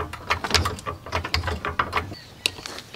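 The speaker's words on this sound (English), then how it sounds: "First, let's jack it up, get the weight off the wheel so we can drop it." A jack being worked under a riding mower to lift the weight off a wheel, giving a run of sharp ratcheting clicks and mechanical knocks at close range, fairly loud and steady for a few seconds.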